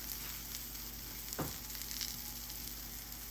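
Pigs in a blanket with cheese sizzling steadily in a hot frying pan, a constant crackling hiss with one brief soft clunk partway through.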